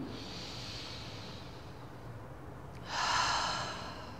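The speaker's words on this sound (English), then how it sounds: "I'm taking some deep breaths." A person taking a slow, deep breath, a soft steady inhale followed by a louder, brighter breathy exhale near the end, close and quiet with no talk.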